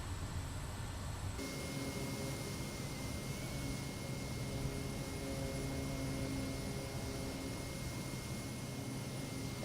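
Kodiak 100 single-engine turboprop in Microsoft Flight Simulator 2024, a continuous loud propeller and engine drone that rises slightly in pitch as the throttle goes up, steady and unbroken with a faint high whine above it.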